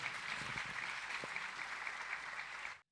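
Loud, steady applause fills a convocation hall at a Bible college as a guest speaker is called forward, a dense wash of clapping sustained for nearly three seconds before cutting off abruptly.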